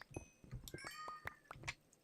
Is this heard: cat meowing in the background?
yes